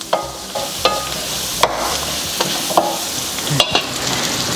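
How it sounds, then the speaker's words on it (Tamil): Small onions and curry leaves sauté in a pan with a steady hiss, punctuated by sharp, regular spoon knocks and scrapes roughly every second, close and fairly loud, with no voices. "இப்போ நம்ம வெங்காயம் நல்லா வதங்கிடுச்சு."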